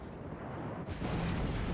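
Torpedo hits explode against the North Carolina battleship in World of Warships: a heavy, constant roar breaks into a louder, broad, rumbling blast partway through that keeps booming to the end.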